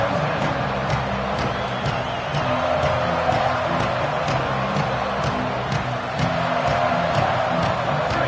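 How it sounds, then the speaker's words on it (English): A football stadium crowd roars in a steady, dense wash of cheering during a kickoff return, loud and sustained with no clear break. "This crowd ready to make its presence known."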